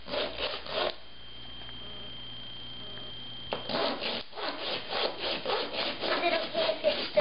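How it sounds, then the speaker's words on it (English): Resin toy legs are rubbed flat with dry, rasping strokes, first in a short close burst. A quieter stretch with a faint steady tone follows, then the rhythmic scraping resumes. "You just rub his legs flat."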